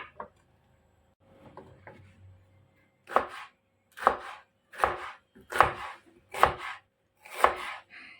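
Knife chops meat on a board in a home kitchen, preparing it for frying: a few soft taps, then six loud, evenly spaced chops close by.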